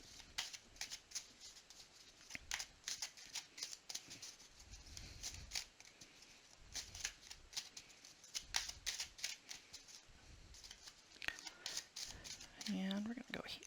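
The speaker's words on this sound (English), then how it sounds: "now I'm going to go ahead and shuffle and pull an oracle card for you" Repeated crisp oracle-card shuffling riffles and flicks, close up, in bursts with short pauses, with a soft voice faintly underneath.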